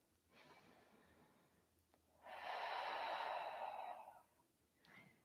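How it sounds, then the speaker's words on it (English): A person takes one long, deep breath during an energy balancing exercise, a soft inhale swelling into a louder, airy, close exhale of about two seconds, then a faint trailing breath, alone in a quiet room. "Breathe."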